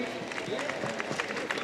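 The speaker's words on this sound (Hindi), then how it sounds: "जोरदार तालियां बजाइए" Audience applause at an honoring ceremony during a birthday celebration event, steady dense clapping throughout under a crowd murmur, moderately loud and continuous.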